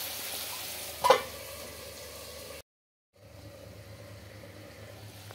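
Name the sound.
chicken fry cooking in pan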